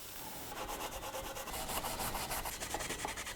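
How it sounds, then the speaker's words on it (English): A scour pad rubs over the cylinder surface of a Range Rover engine block during a rebuild, clearing old gasket residue and carbon buildup. Close, steady scratchy scrubbing strokes in a quick, fairly even rhythm, with no talking. "I have been using this scour pad and the results are okay, but they're not perfect."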